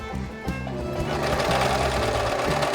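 Serger sewing machine stitching face fabric for a dress, a fast rhythmic mechanical whirr running close and steady with a slight rise in pace.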